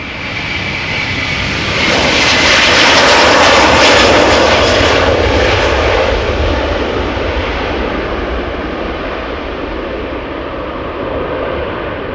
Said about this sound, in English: Delta Airlines Flight 47, Airbus A330-300,